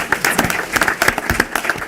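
An audience at a school district gathering claps briskly, with individual hand claps distinct and close amid a light, uneven crowd applause.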